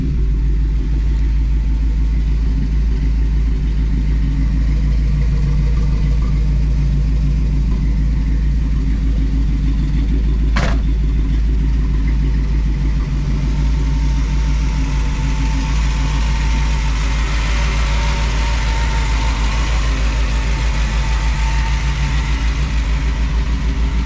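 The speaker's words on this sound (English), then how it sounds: "we'll fire this thing up so you guys can hear how she sounds" A 1957 GMC pickup truck engine runs at a steady, deep idle, close and loud, with a brief sharp click partway through and a slight rise in tone late on.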